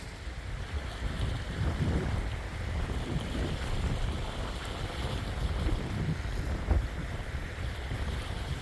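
Steady wind rushing across a sailboat under way, with broadband buffeting and low water wash, continuous and fairly loud throughout with no talking.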